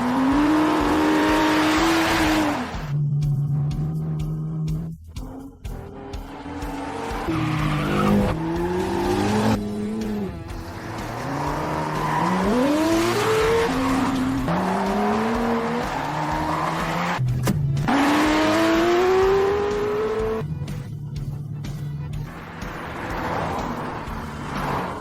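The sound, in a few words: cars racing on mountain road, tires squealing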